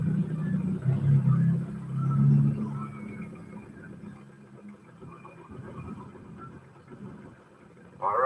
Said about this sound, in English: Go ahead and give it some more throttle if you got enough space, right? Just to kind of feel the pickup.